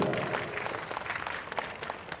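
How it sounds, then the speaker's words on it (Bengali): An audience after a stage play by Rabindranath Tagore applauds an actor, a continuous wash of clapping heard from some distance with a few sharper individual claps standing out. "জোরে হাততালি একটা রাতুলের জন্য"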